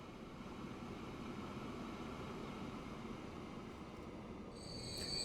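Trains run along a line in Transport Fever, a continuous low rumble and rolling clatter with faint metallic wheel squeal, steady and moderately distant, rising slightly toward the end.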